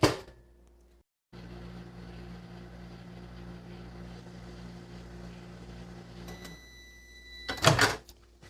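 A microwave oven heats a tinned spotted dick pudding, humming in a low, steady drone after a click, then ending in a cluster of sharp beeps and clatter.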